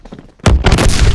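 A grenade goes off in the first-person shooter Phantom Forces after a quiet moment: one sudden, loud blast followed by a dense, crackling roar of debris and gunfire-like bursts that sustains to the end.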